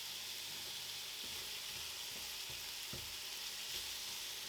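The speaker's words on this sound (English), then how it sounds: "And in with the onion chunks. Stir it around a bit, get those cooking." Carrots and onion chunks stir-frying in a pan for a Chinese chicken dish, giving a steady broad sizzle with soft scraping stirs throughout, fairly close and continuous with no voices.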